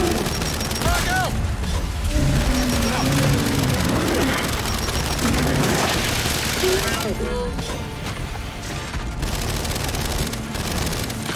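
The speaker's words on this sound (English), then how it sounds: "Throw your grenades at it." Frag grenade blasts and rapid gunfire in the video game Gears 5, loud and dense throughout, mixed with game effects while players talk over the combat.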